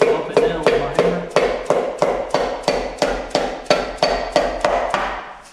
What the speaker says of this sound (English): guide this down while I pump it down with my hammer